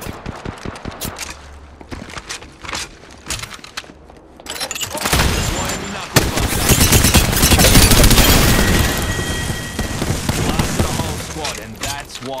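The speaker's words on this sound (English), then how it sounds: "Being shot at." Gunfire in the Apex Legends video game, sparse single shots at first, then heavy sustained automatic fire with booming impacts, loud and close, with voices speaking at moments.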